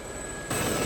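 A Gazelle helicopter's turbine engine in the DCS simulator drones steadily with a thin high whine, then swells noticeably louder halfway through the short stretch.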